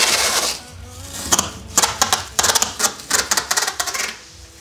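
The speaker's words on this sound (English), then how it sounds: "we're just taping up the window so that it has got a non-transparent surface to reflect off of" Tape is pulled and pressed onto a car window to give a scanning surface, heard as a run of quick, sharp crackling rips and taps growing busier toward the end, close and alone.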